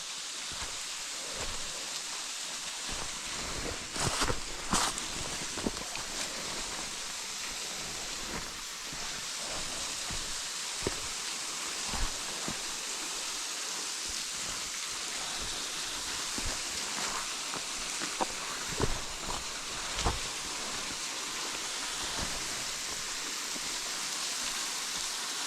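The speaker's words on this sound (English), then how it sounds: "Not a huge waterfall, it's more of a runoff" A small winter waterfall runoff pours as a steady, close rushing hiss of falling water, with occasional brief clicks and knocks over the constant flow.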